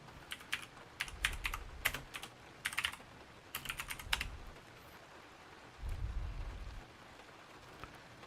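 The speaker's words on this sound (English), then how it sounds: "You should be able to hear me type. I have the blue switch keyboard" A blue-switch mechanical keyboard clatters in quick clicky bursts with pauses between them, close but moderately soft, over low background rumble and thumps, and nobody speaks.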